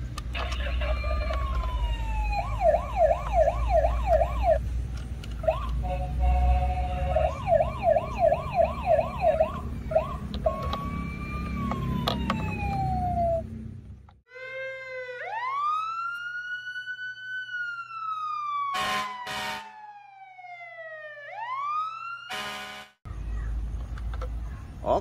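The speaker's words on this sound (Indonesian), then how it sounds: "Wow, mobil pemadam kebakaran, teman-teman." Toy fire truck siren wailing and whooping in rising and falling sweeps, with electronic beeps and jingles, close and loud, then a pause before it starts again.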